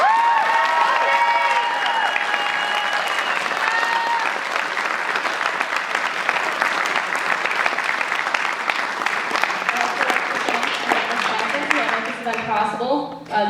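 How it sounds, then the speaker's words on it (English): Audience applause and cheering honoring a high school student and the U.S. Army at a marching band recognition event, sustained dense clapping throughout with cheers mixed in, fading near the end. "let's give a big round of applause"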